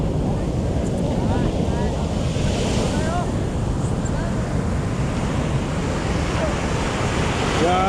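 Huge high-tide ocean waves crash and roar continuously onto Kuta beach in Bali, a loud, dense wash of surf with heavy wind buffeting the microphone throughout.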